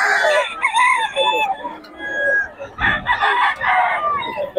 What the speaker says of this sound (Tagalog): Solid mga manok ni Boss Batang ngayon.